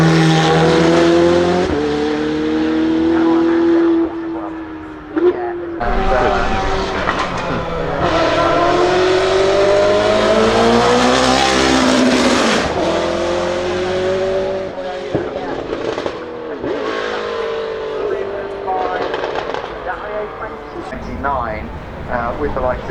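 A 3-litre V6 turbo race car with a big rear wing runs at the Goodwood Festival of Speed, its engine rising and falling through gear changes with a long howling pull in the middle, loud and continuous under a commentator's talk.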